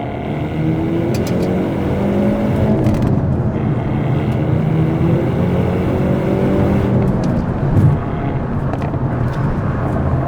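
A 2025 Hyundai Elantra N engine roars steadily as it accelerates hard from 40, loud and continuous, with the drone building under the pull and no talking.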